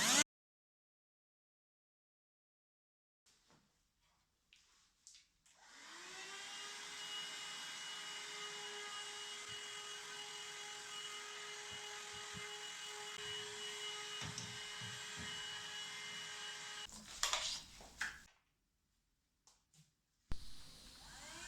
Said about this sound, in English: And now we connect our vacuum cleaner,